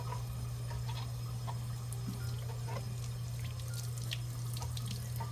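Tap water runs steadily and close by at a sink while an Artis makeup brush is rinsed with soap to lift out foundation, with small splashes and drips over the continuous stream.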